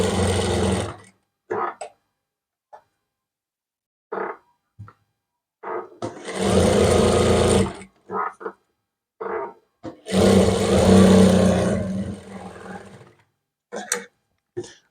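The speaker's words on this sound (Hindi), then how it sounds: "इस तरीके से इसको कपड़े पर रखेंगे और इस पर सिलाई लगाएंगे" A sewing machine stitches a neckline onto fabric for a frock, running in several short and longer whirring bursts with abrupt stops between them, close and moderately loud, with no other sound.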